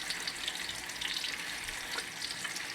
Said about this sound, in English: so I'm just gonna let it fry